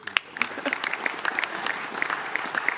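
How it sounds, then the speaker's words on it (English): Audience applause at a crypto summit fireside chat, a steady wash of clapping with scattered sharper claps, fairly close and continuous, with faint voices mixed in. "Please give them applause."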